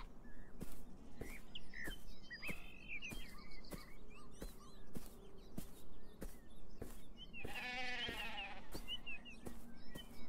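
Sheep bleating in the video game Beyond Eyes, a clear bleat rising near the middle against a backdrop of chirping birds and a soft steady ambience, with no talking.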